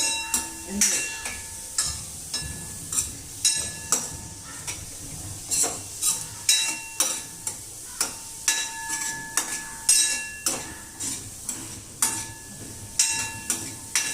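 Onion fries in a pan at a home cooking contest, a low sizzle under steady, rhythmic scraping and clacking of a spatula against the pan, close and repeated throughout with no talking.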